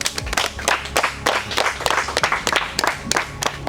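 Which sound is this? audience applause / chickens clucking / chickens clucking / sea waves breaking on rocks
audience applause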